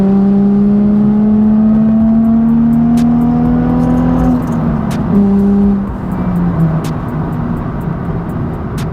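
A Nissan 350Z engine pulls hard as the car accelerates, its rising tone climbing through a gear, a shift, then settling into a steady drone, loud and close from inside the car.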